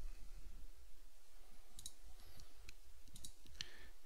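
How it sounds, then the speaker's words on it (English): Faint, close computer mouse clicks, a few light separate taps heard against quiet room hiss, as a file is saved in 3D bone-modeling software. "So I'm going to click Save."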